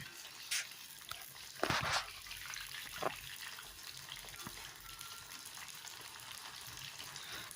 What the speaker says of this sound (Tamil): இப்போ இந்த எண்ணெய் வந்து கொதிக்குது